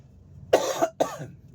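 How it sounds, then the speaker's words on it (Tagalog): A person coughs twice up close, two short harsh bursts separated by a brief pause, in an otherwise quiet space. "Yan, inuubo na ako."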